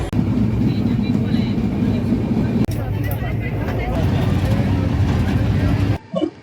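Taj Express train pulling out of New Delhi station, a steady loud rumble of wheels and carriage noise continuing throughout, with a voice talking over it and a brief drop near the end.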